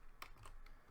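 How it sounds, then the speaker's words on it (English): Computer keyboard typing: a few distinct, quiet keystrokes spaced irregularly over low background hum, with no voices. "Typing."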